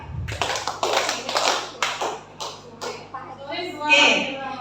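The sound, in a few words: group clapping hands three times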